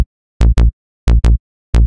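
Side bass in a music remix plays as short, deep, punchy notes in pairs, three pairs in quick succession with silent gaps between them, loud and alone.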